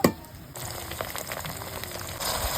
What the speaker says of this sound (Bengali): আদা রসুনটা একটু ভিজে নেব তেলে